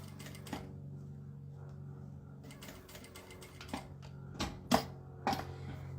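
A sewing machine stitches a car trash bag in short bursts of a few quick stitches, each followed by a pause. The rattling is fairly soft over a quiet background hum.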